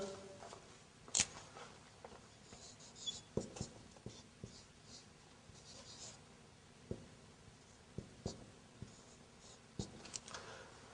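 A teacher writing on a board during an Arabic lesson gives soft, scattered taps and scratches, irregular strokes with short pauses, faint and close in an otherwise quiet room.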